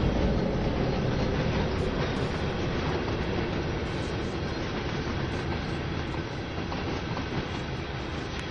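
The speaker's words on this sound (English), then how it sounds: "Seems to be a local chemical train of some description, and we're going way too fast." A local chemical tank train of about fifteen cars on the CN Oakville Subdivision in Train Sim World 3, running much too fast, gives a steady, loud rumble of wheels and cars with faint clickety-clack, unbroken throughout.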